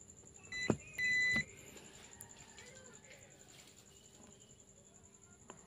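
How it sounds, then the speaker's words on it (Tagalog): A buzzer on a Samsung LED TV board under repair sounds a short steady beep, preceded by a brief click, with faint high-pitched electronic whine and low background hum continuing afterward. "Ito yung buzzer natin."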